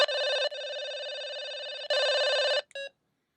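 An EnGenius FreeStyl 2 cordless phone ringtone chirps in repeated electronic bursts, first loud, then softer for a longer stretch, then loud again before a short final blip.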